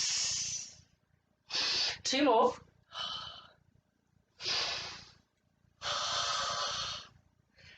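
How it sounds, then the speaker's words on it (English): Heavy, breathy inhales and exhales come in steady repeated bursts during a Pilates exercise, close and loud with quiet pauses between breaths; an instructor speaks briefly. "Breathing in, breathing out."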